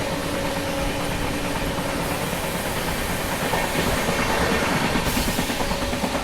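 Goa Rajdhani Express running at speed while overtaking, with a loud continuous rumble and rattle of rolling coaches heard close from on board.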